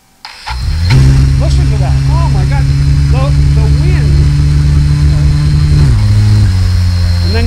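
Small consumer drone motors spin up indoors, going from a click to a loud, steady multi-tone whine that holds, then drops slightly near the end, with a voice speaking over it.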